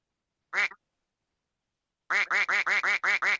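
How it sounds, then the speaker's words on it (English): A duck gives one loud, close quack, then after a pause a quick run of about seven repeated quacks in steady rhythm, alone. "Quack."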